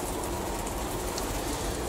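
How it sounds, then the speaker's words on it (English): Hail and sleet pattering on a greenhouse roof, a dense, faint, continuous hiss of tiny impacts with no distinct gaps. "you can hear the hail and the sleet outside bouncing off the greenhouse"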